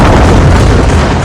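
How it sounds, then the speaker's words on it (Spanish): A cosmic explosion strikes the ground in a loud, dense, sustained roaring boom that fills the whole brief moment with heavy low rumble. "La energía de la explosión cósmica llega al suelo, creando una nube de hongo de roca y tierra"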